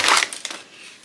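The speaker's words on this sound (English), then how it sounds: "Plastic bag again." A plastic bag is crinkled and handled up close, giving a short burst of bright crackling rustles that quickly taper off.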